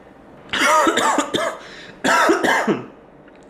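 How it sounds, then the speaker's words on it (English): A person coughs after a drink goes down the wrong way, two close, harsh bursts, each a cluster of rapid hacking coughs separated by a short pause. "I'm only coughing because I took too big of a drink."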